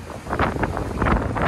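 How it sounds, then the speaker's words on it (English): Strong gusts of wind in a Manhattan street buffeting the microphone, rough rumbling bursts that rise and fall over a second and a half, loud and close with no speech. "It's so windy, you guys can hear the whistling."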